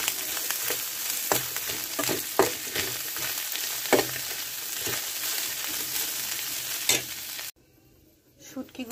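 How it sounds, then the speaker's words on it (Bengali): Dried fish and chopped onion fry together in oil, a close crackling sizzle with repeated scraping stirs, which cuts off abruptly near the end into near silence. "সবগুলো একসাথে একটু ভালো করে ভেজে নেব।"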